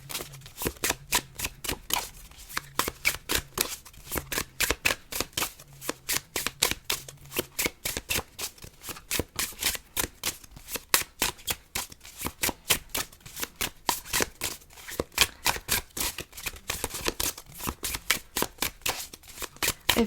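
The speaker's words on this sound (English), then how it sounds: "I'll give it a few more shuffles and see if any jumpers want to come out." Tarot cards shuffled repeatedly at close range, a long run of rapid, crisp riffling bursts and slaps with an uneven rhythm, fairly quiet and with no talk.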